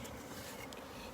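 Honey bees swarming at a hive during a honey harvest, a steady dense buzzing drone filling the whole moment at low level, with no voices.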